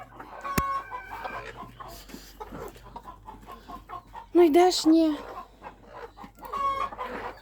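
Hens on a small farm with newly hatching chicks cluck repeatedly at close range, with a couple of louder squawks midway, while a person talks to the birds and urges them along.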